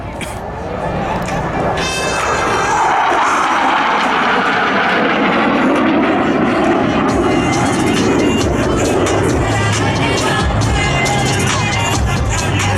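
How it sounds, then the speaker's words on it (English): Two US Navy Blue Angels jets sweep past the flight line at an airshow at about 400 mph, a loud roar swelling to fill everything and then holding steady, with crowd noise and an announcer's voice beneath. "Blue Angels 5 and 6 are approaching the flight line at 400 miles per hour."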